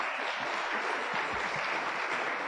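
An audience gives a speaker a round of applause, a dense, steady crowd clapping at moderate volume that runs unbroken with no voices over it.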